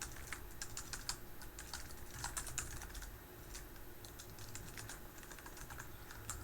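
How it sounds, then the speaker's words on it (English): Rapid typing on a computer keyboard while writing code, with quick, uneven clusters of soft key clicks close by, a short lull near the middle, and no talking. "Typing really helps."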